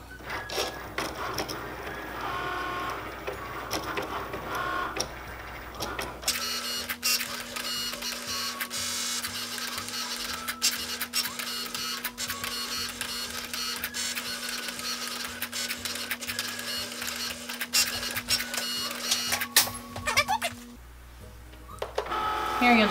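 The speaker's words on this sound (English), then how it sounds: "It cuts pretty fast, but you can put it in fast mode and it'll cut even faster than what you're seeing." A Cricut Maker cutting machine slices vinyl on a mat, a steady mechanical whir with rapid ratcheting carriage movements and a constant tonal hum, running continuously for about fourteen seconds between quieter stretches.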